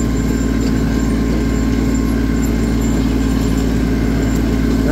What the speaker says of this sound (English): Now this is only a 30 horsepower tractor.